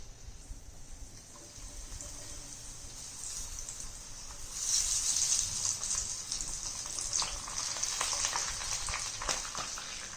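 Corn kernels frying in hot oil in a pan, a steady close sizzle that swells louder about halfway through and keeps crackling.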